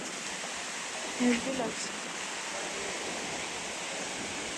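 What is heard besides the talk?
heavy rain at the seashore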